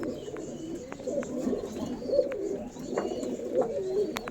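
Several pigeons kept for sale at a home loft coo continuously in low, rolling phrases, with a few faint higher chirps and clicks over the close, steady chorus.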